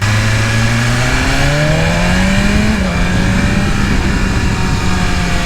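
A 2020 BMW S1000RR sport motorcycle accelerating hard at wide-open throttle, its engine note climbing steadily through the gears, loud, close and continuous, with a brief dip at a shift and no talk.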